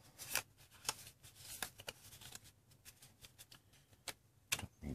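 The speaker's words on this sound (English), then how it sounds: "Take the dev cards or development cards, shuffle them." Playing cards for a zombie board game are shuffled close by, quiet crisp riffling snaps and flicks in an irregular, faint rhythm.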